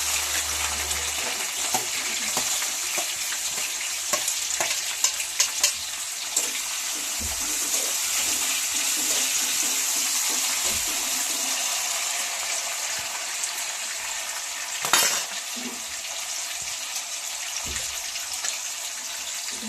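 Green chillies and capsicum sizzle in hot oil for capsicum rice, a steady hissing fry running throughout at moderate level, with occasional clinks and stirring knocks in the pan.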